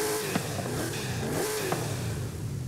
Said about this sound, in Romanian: Motorul, da, nu sună wow